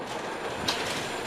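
Slow amusement park train ride at Blackpool Pleasure Beach, a wet dark ride in pouring rain, giving a steady low rumble and wash of rain noise with a faint rattle near the middle.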